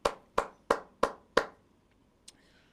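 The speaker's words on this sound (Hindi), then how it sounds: "विराट कोहली के लिए एक बारी तालियां हो जाए भाई लोग, प्लीज एक बारी तालियां।" Five sharp, evenly spaced hand claps from a small group cheering for Virat Kohli, followed by a single faint tap, after India won the first Test against Australia.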